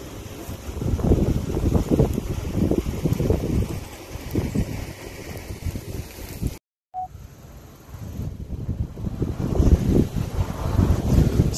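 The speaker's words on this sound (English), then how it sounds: "So everyone know Munro is a windy community." Wind blows hard and continuously across the microphone in a windy hilltop community at Munro, St. Elizabeth, near a wind farm, gusting in loud rumbling surges with a brief dropout partway through.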